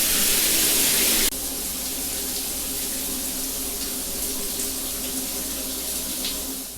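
Water runs from a tap inside a tiny houseboat, a bright gush at first that settles into a steady, closer splashing stream into a sink, with no talking.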